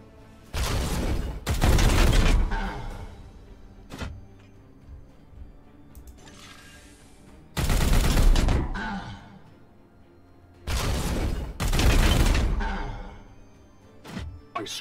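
Squad gunfire in the video game Warhammer 40k: Chaos Gate - Daemonhunters: several loud, sharp volleys of heavy shots in separate clusters with quieter gaps, some single cracks and faint rumbling between bursts.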